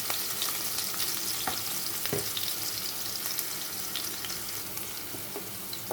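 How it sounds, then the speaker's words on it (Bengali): Long-cut potato strips fry in hot oil left over from frying fish, giving a steady, dense sizzle with scattered crackles and a few scraping stirs, close and continuous with no voices. "আলুটা এখন ভেজে নিতে হবে"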